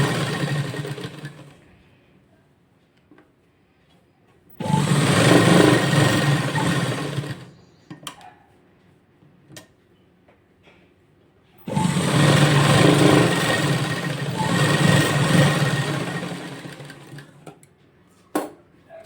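Sewing machine stitching lining cloth onto a frock patch, running in two long steady bursts of several seconds each with quiet pauses and small handling clicks between.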